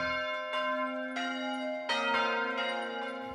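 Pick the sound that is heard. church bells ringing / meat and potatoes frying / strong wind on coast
church bells ringing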